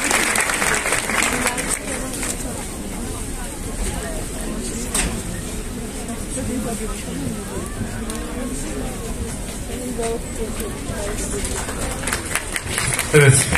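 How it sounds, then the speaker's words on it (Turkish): Steady crowd applause in Ümraniye as a deputy mayor is welcomed onto the stage for a flower presentation, with continuous, even clapping and some background voices mixed in throughout. "Belediye Başkan Yardımcımız Mesut Özdemir'i alkışlarınızla sahneye davet ediyorum"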